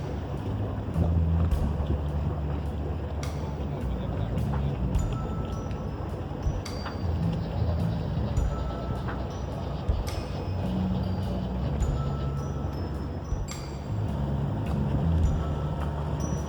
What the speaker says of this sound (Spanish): Ya navegando, saliendo de Porto Venere.